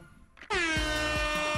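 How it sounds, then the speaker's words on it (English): A loud, blaring air horn sound effect cuts in abruptly on a music drop during Fall Guys gameplay, sustained and harmonically rich, with a few rhythmic thumps beneath it. "the drop in the music with the air horn"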